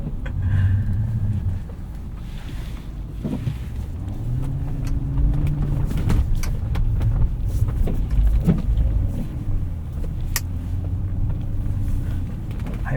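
A 2005 Lexus SC 430 on Michelin CrossClimate 2 tyres driving through deep unplowed snow, heard as a steady low engine rumble that rises and falls with throttle, mixed with crunching road noise, close and continuous.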